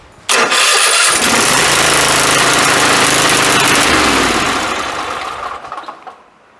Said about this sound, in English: I took it right out of the box and we're trying to crank it.